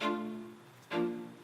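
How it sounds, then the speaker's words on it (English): Two sustained bowed string chords from a string sample without effects, the first swelling and fading, the second entering sharply after a short dip, dry and fairly quiet. "So with these strings, without effects, it sounds like this."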